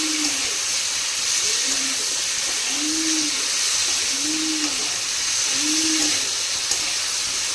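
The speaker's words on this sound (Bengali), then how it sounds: "পটলগুলোকে তেলের উপরে ছেড়ে দিয়েছি" Pointed gourd (potol) frying in oil with salt and turmeric gives off a steady, close broadband hiss that runs the whole time, with faint low tones drifting under it.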